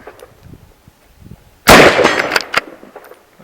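A single sharp gunshot from a Steyr Scout rifle in .308 Winchester cracks out loud and close, followed by a brief rolling echo that fades away.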